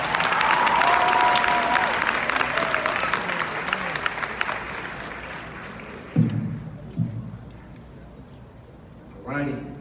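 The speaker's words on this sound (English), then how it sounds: "Please give them another round of applause." Loud, sustained applause and cheering from a crowd at a middle school graduation ceremony, fading over several seconds before a few scattered claps and a brief shout near the end.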